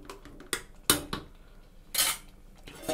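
A steel plate is set over a pot of cooking kidney bean curry, producing a few sharp metallic clanks and rattles, close and loud, between quieter handling sounds.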